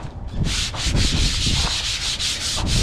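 Hand sanding paint on a 1985 C&C 35-3 sailboat hull with 80 grit sandpaper, close and steady, a rapid rhythm of back-and-forth rasping strokes, roughly a dozen in under three seconds.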